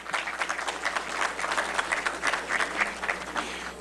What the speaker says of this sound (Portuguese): enquanto eu peço uma salva de palmas aí